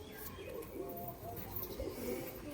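Pigeons, a breeding pair with a laid egg, cooing softly in low, throaty rolling phrases that repeat close by at low volume over faint room noise.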